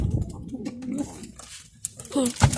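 A male pigeon coos in low, rolling bursts close by, with rustling and a sharp knock near the end; a person's voice is faintly mixed in.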